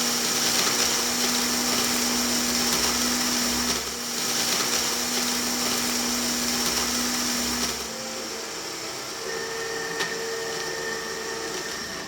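Electric blender or mixie grinding garam masala spices, a steady loud motor whir with a tonal hum that runs for about eight seconds, then drops to a quieter, thinner whine until the end.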